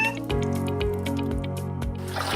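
Water drips from a faucet in a steady series of drops about every half second, close and distinct, over a sustained musical backdrop.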